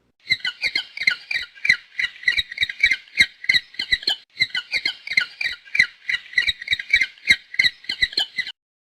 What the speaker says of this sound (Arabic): بطريق.